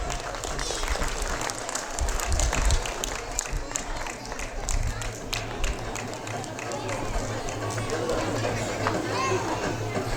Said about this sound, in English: Parents, please a big round of applause.